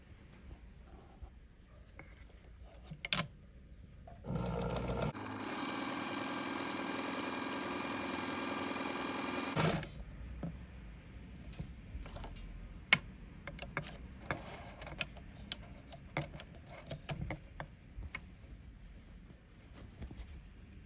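An Elna SU sewing machine runs a 3mm-wide zigzag stitch at length 2, a steady mechanical whir for about five seconds, framed by quieter clicks and handling noises before and after.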